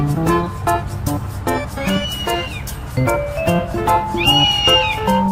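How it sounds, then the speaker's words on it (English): An eagle gives two or three high, gliding screeches over steady background music, each call rising and then falling away. "eagle"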